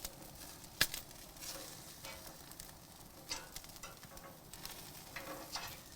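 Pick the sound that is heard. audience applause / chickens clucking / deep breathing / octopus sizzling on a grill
octopus sizzling on a grill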